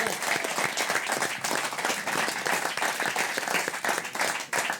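Live theatre audience applauds a comedy performance at a rural community hall, a dense, steady wave of clapping that stays loud throughout and fades slightly near the end.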